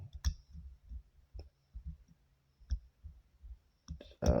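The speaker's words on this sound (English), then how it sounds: "Let's see if we can get a little click out of it. Click on 2." Small sharp clicks come from a Paclock PL410 Pro padlock as its pins are picked, several faint, close ticks at irregular intervals in near silence, ending with a brief louder rustle.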